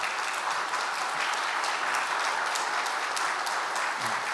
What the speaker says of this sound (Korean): 일어나시면 환영의 박수 드리겠습니다